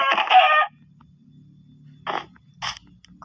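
A Minecraft chicken gives short clucks in separate bursts, one at the start and two more later, over a quiet low background hum.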